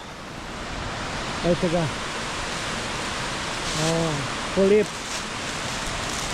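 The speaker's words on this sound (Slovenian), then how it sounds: "Kakšen čudovit slap me čaka tamle." Waterfall on the Mrzli potok stream in the Posočje valley, a steady broadband roar of falling water filling the whole clip, with someone speaking briefly over it a few times.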